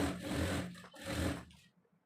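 A sewing machine stitches the lining of a child's frock made from old saree fabric, giving two short close bursts of motor whir and needle clatter before stopping.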